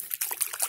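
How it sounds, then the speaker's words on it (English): Mud splashing outdoors: a quick series of wet, sloshing splatters in under a second, fairly close and moderately loud. "let's go mud splashing"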